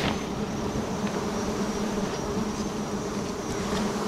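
A dense swarm of bees hums steadily around a giant beehive on a sao tree, a loud, continuous buzzing drone that fills the whole stretch without pause.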